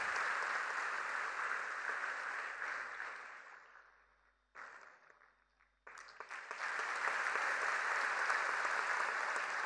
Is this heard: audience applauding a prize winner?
yes